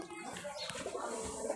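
Highflyer Giribaz pigeons coo faintly inside a cramped room, soft throaty calls sounding a little distant over low background noise.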